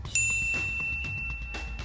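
A bright notification bell dings once near the start, its tone ringing on and slowly fading through the rest of the short moment.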